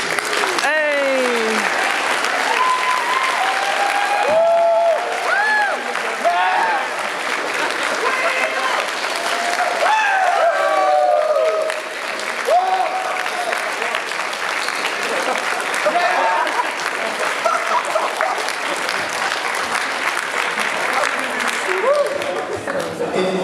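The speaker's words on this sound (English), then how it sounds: "please stand up for a round of applause." Loud, sustained applause from a large convention panel audience, continuous clapping with scattered cheers and a voice speaking over it.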